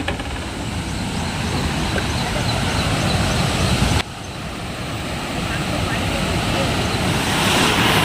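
Water pours a few feet down a drop below a swing bridge near the Statue of Unity, a loud, continuous rushing roar with wind buffeting the microphone.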